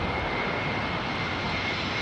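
An airliner arriving at Heathrow Airport on a windy day gives a steady, loud engine roar mixed with broadband wind rumble, with no talk.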